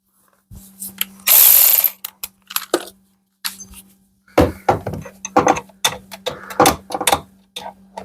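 A ratchet with a 10 millimeter socket clicks in short bursts, with a few quick spins and a brief metallic rattle, close by and separated by pauses.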